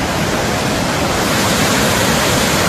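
Rushing water thunders at Hogenakkal waterfall, a dense, loud, continuous roar that fills the whole clip without pause and with no voices.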